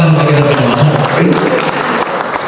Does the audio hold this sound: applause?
yes